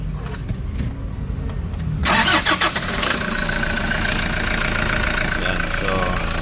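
A Toyota HiAce engine starting up for an air-conditioning compressor check, with a short crank before it catches and settles into a steady close idle, while someone talks over it.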